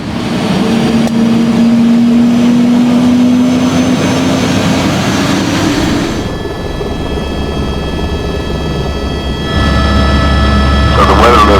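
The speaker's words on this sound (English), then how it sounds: "Let's go on a helicopter ride." A helicopter on a New Zealand hunting trip for bull tahr roars loudly and close in flight, its rotor and engine drone steady throughout, with the pitch and texture shifting twice as it changes course.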